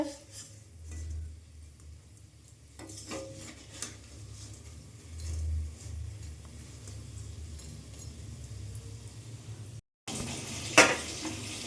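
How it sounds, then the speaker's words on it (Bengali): Cabbage pakoras deep frying in hot oil, a soft continuous bubbling sizzle with occasional utensil clinks and stirring knocks, close but fairly quiet, ending in a brief pause and a sharper clatter, no talking. "এই যে বাঁধাকপির পকোড়া ভাজা হচ্ছে"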